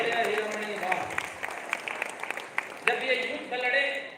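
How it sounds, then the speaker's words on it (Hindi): Audience applause at a Hindi comic poetry gathering in a Jain hall, scattered clapping under a voice over a loudspeaker, sharp claps across the whole stretch and a brief swell near the end. "एक बार जोरदार तालियां आप इनके सम्मान में बजाइए।"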